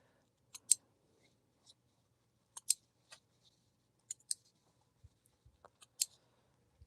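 Sharp scissors snipping through fabric pieces at a sewing table, a dozen or so quick crisp cuts arriving in irregular pairs and singles with short pauses, close and clear against a quiet room.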